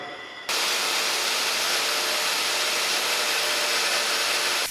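A pulverizer grinder trues its grinding wheels, kicking in after a brief quieter moment and then holding a loud, steady, broadband grinding roar with a high hiss, close and unbroken, with no voices.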